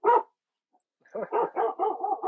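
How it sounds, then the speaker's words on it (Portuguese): Dogs bark in the background of a spoken lecture on spine treatment, one bark first, then after a pause a rapid run of several barks close by, with no talk over them. "Cachorrada latina aqui."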